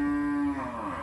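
A single cow lets out a loud, close moo from a cattle shed in a remote Indonesian farming village, the call sliding down in pitch over about a second.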